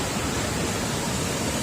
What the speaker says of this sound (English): now we're at the midpoint of this waterfall